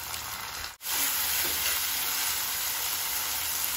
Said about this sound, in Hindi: अब हम इसमें कटा टमाटर डाल देंगे।